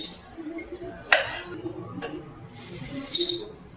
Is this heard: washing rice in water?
yes